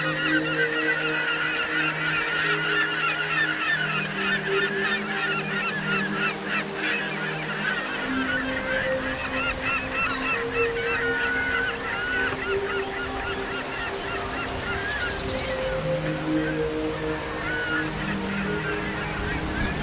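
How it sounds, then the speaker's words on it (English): Seabirds nesting on the towering cliffs of Heimaey harbour in Iceland call in repeated honking cries, heard continuously over a low boat engine hum and sea noise. "entered dramatic Heimaey harbour, where seabirds nested on every crevice in the towering cliffs"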